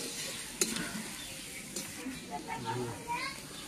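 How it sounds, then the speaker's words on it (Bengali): Green chili and onion stir-frying in a pan, giving a steady low sizzle with one sharp utensil clack and soft scraping stirs, while children's voices chatter faintly in the background. "প্রথমে কাঁচা লঙ্কা কুচি দিয়ে, পেঁয়াজ কুচি দিয়ে অল্প নাড়াচাড়া করব।"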